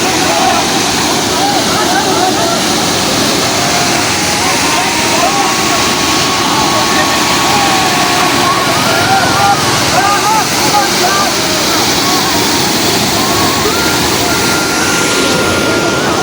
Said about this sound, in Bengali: ঝর্ণা জাস্ট দেখেন।